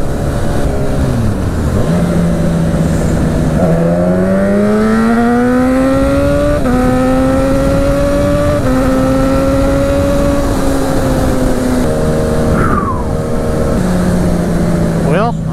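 A parts-bin Suzuki Katana motorcycle engine revs and accelerates loudly and close by, its pitch climbing through gear after gear with brief drops at each shift. A voice talks over the engine.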